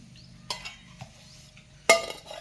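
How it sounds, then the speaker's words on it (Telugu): A spoon scrapes and knocks against a lunch box as rice is served into it, three separate clinks and taps with quiet gaps between them, close and alone. "ఇదిగోండి ఒక బాక్స్లో అన్నం వేస్తున్నా"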